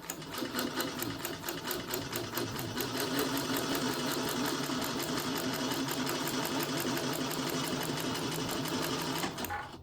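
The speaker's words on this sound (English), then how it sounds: "So that's an example of how quiet the machine is." A sewing machine stitches steadily for about ten seconds, a quiet, even mechanical whirr with a rapid rhythmic needle beat, close by and alone, stopping at the end.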